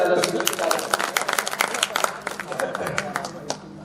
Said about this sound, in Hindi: तो एक बार जोरदार ताली बजा के मुझे इजाजत दीजिए।